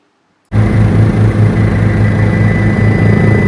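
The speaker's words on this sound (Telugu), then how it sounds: "హెలికాప్టర్ ఎట్నొస్తుంది" A helicopter at the Medaram Jathara fair starts suddenly and then holds a loud, steady engine roar and rotor drone with a low pulsing throb, close by, with no voices.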